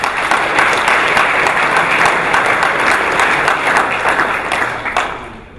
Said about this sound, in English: So, really, round of applause for him.